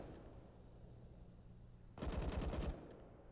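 A short burst of rapid pistol fire in a CS:GO esports match on Mirage, loud and close for under a second after a quiet stretch of game ambience.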